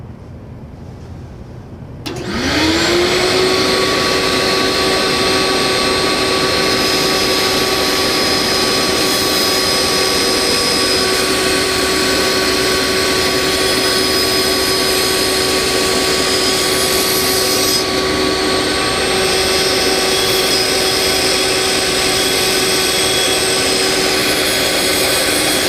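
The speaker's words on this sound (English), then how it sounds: "I'm going to take this to the bandsaw and remove the excess material on either end." A bandsaw starts up, spins to a steady high whine and then runs loud and continuous while trimming excess material from both ends of a wooden workpiece, with a faint change in tone partway through.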